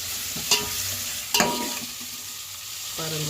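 Onions and green chillies frying in a pan give a steady close hiss, with a couple of sharp spatula knocks and brief stirring scrapes.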